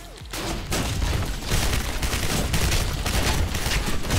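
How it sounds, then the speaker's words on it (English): Gunfire in the Gotham City Impostors video game, shotgun and burst-fire weapons going off in a dense, loud barrage of overlapping shots and booms that starts after a short quieter moment. "The shotgun wins over fucking burst fire."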